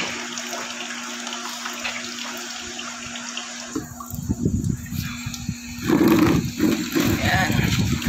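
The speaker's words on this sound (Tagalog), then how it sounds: "Tapos switch natin yung machine." A mineral water purifier machine is switched on, giving a faint steady hum, then water begins flowing and rushing into the tank with a louder splashing stream.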